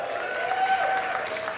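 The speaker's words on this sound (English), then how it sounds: "By round of applause." Short burst of audience applause and cheering at a stand-up comedy show, moderately loud and continuous, with a few voices calling out over the clapping.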